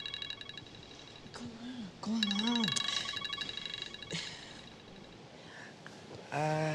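Phone ringing indoors with repeated electronic tone bursts, while people talk and react around it.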